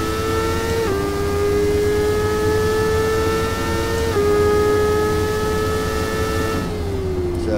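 A car engine in a racing game holds a steady loud drone, with stepped pitch changes as it shifts through the gears and a slight drop at the end. No voices.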